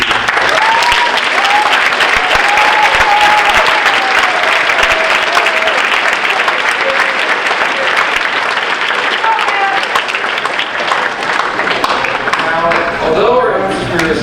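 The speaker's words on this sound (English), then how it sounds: "a short round of applause for all the teachers and faculty" A crowd at an eighth grade step-up night gives a long round of applause for the teachers and faculty, sustained loud clapping with a few faint whistles and cheers mixed in.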